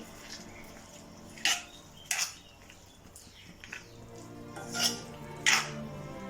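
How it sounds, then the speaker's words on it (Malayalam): A spoon stirs a Vishu festival dish in a pot after vinegar goes in, giving several sharp metallic clinks and scrapes spaced a second or so apart over a faint background hiss. "ഇനി നമുക്ക് നമ്മളുടെ വിനിഗർ ഒഴിച്ചു കൊടുക്കാം അത് നന്നായിട്ടൊന്ന് ഇളക്കിയിട്ടേ"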